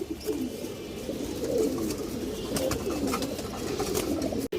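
Pigeons coo in a loft, soft low throaty rolling calls repeating and overlapping close by, with a sharp click near the end.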